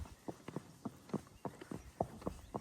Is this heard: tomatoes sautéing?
no